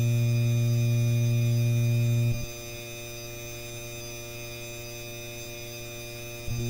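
Steady electrical hum from a Craftmade ceiling fan running in a master bedroom, a strong low drone that drops to a quieter buzz partway through and returns near the end, with no voices.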